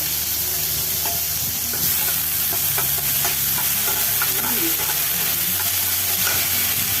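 Onion paste fries in hot oil, a loud continuous sizzle close by, with a spoon stirring and scraping the pan now and then.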